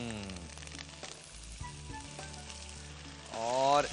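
Rice sautéing in a pan with fried, reddish-browned onions, a steady soft sizzle running throughout and swelling louder near the end, with speech faintly present.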